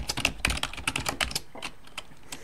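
Typing VHDL code on a computer keyboard: rapid, irregular key clicks at close range, dense at first and then thinning to scattered taps, with no talking.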